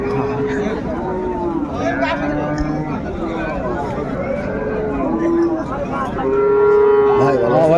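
Several cows and calves low over a busy crowd at a cattle market in Raniganj, Dinajpur, their drawn-out calls overlapping amid constant people talking nearby.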